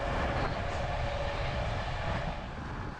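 A Balkan train rolling along the railway in Bulgaria, a continuous loud rushing rumble of wheels and carriage noise heard from on board, steady throughout.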